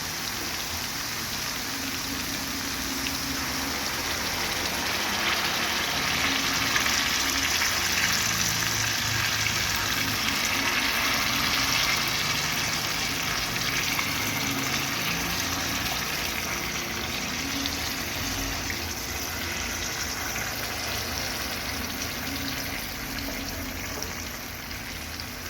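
Tomato-based sauce for a sardine chtitha sizzles and bubbles steadily in a pan, a dense, continuous hiss of frying close by with no talking.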